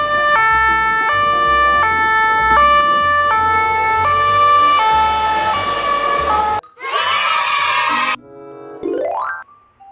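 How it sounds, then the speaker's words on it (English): Loud toy-style ambulance siren wailing in a steady stepped two-tone pattern, then a brief break, a burst of jingly electronic chimes, and a rising whoop at the end. "Ambulance."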